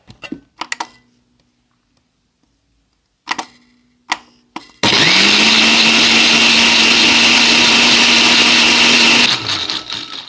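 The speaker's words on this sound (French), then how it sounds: "Et vous venez mixer ça jusqu'à obtenir une espèce de purée." A few sharp clicks and knocks lead into a loud, close blender whirring steadily for about four seconds as fruit is puréed for a Pornstar Martini, then winding down.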